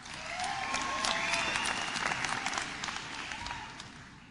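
Applause from a packed crowd at a George W. Bush event swells to a broad, sustained wash, then gradually thins and fades over the last second or two.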